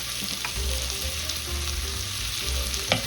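Vegetables and herbs sizzle and fry steadily in a hot pan for an osso buco dish, with a few soft utensil taps and stirs close by and no talking.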